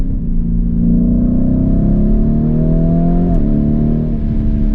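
Ferrari SF90 sports car accelerating hard as its turbo comes on, a loud, close engine note climbing steadily in pitch with a brief shift-like dip before rising again, no talking.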